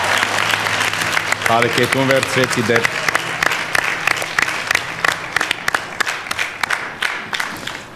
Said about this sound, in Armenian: եկեք բարձր ծափարենք